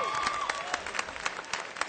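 A commencement crowd at Knox College breaks into steady applause, dense clapping from a large audience filling the hall, sustained and even throughout.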